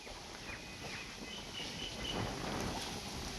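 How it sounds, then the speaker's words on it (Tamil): Continuous wind blowing outdoors around a grandparents' rural home in the evening, a steady broadband rush with wind buffeting the microphone, faint bird chirps and a thin high insect-like tone over it, no talking. "இங்கே சைட்லேருந்து இந்த சைடு வரைக்கும் காற்று அடிச்சுட்டே இருக்குது கண்டினியூஸாக."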